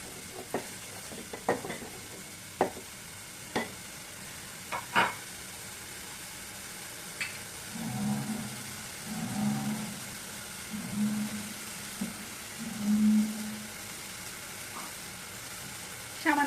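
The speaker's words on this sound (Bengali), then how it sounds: "মশলা ভালোভাবে কষিয়ে নিতে হবে" Spices for beef liver bhuna stir-frying in a pan: a run of sharp scraping and clinking stirs at the start, then several soft sizzling swells in hot oil, moderately close with no voices.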